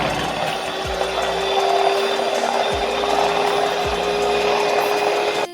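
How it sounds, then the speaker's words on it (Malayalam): An electric beater whisks eggs with vanilla essence in a bowl, a steady whirring buzz with a few low thumps as the beaters knock against the bowl. "ഇനി നമുക്ക് ഈ എഗ്ഗ് ബീറ്റ് ചെയ്ത് തുടങ്ങാം."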